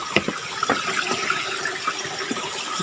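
Water bubbles and trickles from a natural spring welling up from the ground, a steady close splashing rush with small irregular gurgles, no voices.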